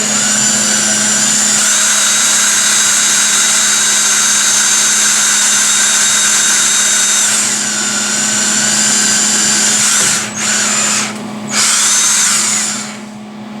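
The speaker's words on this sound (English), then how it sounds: "I'm just going to drill them and tap them as I go" A power drill drills small pilot holes, sized for 10-32 threading, while making a shelf and way cover for a Novakon Torus Pro mill. A loud, steady, close whine runs almost continuously, with two brief dips near the end and no talking.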